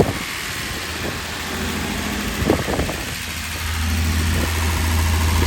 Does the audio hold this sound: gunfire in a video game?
no